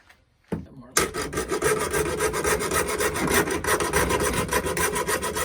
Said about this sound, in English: I'm going to get a hacksaw, and I'm just going to cut right through here